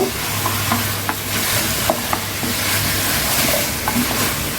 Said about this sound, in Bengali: শসাগুলোকে ভালোভাবে কষিয়ে নিতে হবে।